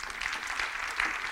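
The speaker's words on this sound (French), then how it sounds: "on peut l'applaudir également" Audience applause at an evening launch event for an innovation prize in the Paris Ouest La Défense business district: brief, steady, dense clapping at even moderate volume throughout.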